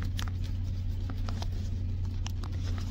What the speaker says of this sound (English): Guys, I wasn't expecting any rain this morning.